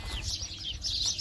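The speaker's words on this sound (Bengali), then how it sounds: "আর আপনারা শুনতে পাচ্ছেন পিছনে যে গাছের যে পরিমাণে পাখি," Many birds in desert trees chirp and tweet in short overlapping calls, fairly close and steady over a low background rumble.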